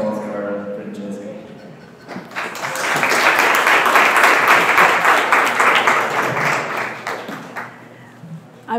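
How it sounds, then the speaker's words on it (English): Conference audience applause welcoming a food design speaker on stage, a loud wave of clapping rising after a short spoken introduction and holding for about five seconds before fading, with voices heard around it. "So please give a hand of applause for Francesca."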